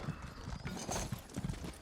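A horse in the Elder Scrolls Online game, hooves clip-clopping in a quick, uneven gallop, close and fairly loud, with a brief neigh mixed in.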